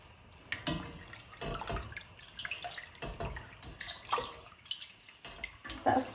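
Water splashes and drips in a basin as a small spoonful of dye goes in for dyeing fuzzy peach yarn, with irregular close sloshing, trickles and clinks throughout.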